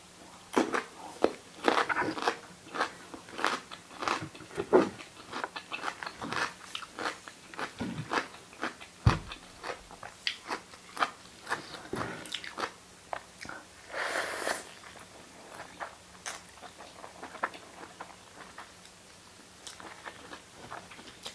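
Crisp, close bites and crunches from crunchy food, with repeated sharp snaps and quieter chewing in between, arriving in an irregular rhythm over a quiet background.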